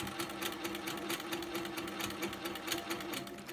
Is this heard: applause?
no